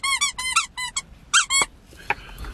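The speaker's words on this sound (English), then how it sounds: "There's a squeaky toy in here." A squeaky toy squeaks in a series of sharp, high-pitched bursts, several quick squeezes in a row and then a pause before fainter clicks, close and loud.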